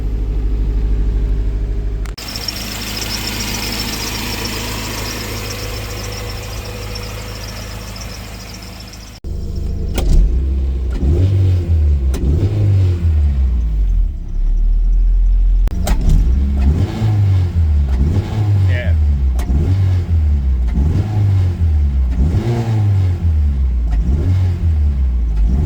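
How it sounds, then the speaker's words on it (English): A VTEC-engined Mini car warming up from cold, starting with a steady, high idle roar, then dropping to a lower idle before a series of repeated, rhythmic revs rising and falling, loud and close with no talk. "Let's get this car warmed up."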